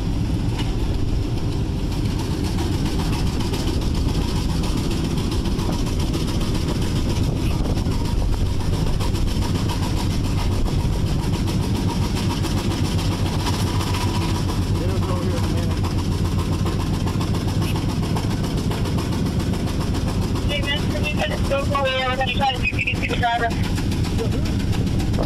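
A car engine idles and rumbles steadily after a police pursuit, a low, continuous drone throughout, with muffled voices over it.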